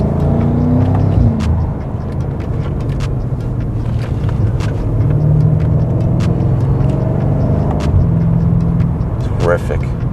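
A modified F90 BMW M5 drives along with a steady engine drone and road noise heard from inside the cabin, close and continuous throughout.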